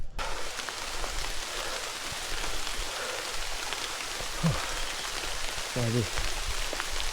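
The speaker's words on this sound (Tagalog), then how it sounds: "Malakas na yung ulan." Steady, dense hiss of heavy typhoon rain pouring down on a mountain, continuous and close, with a couple of brief faint sounds breaking through near the end.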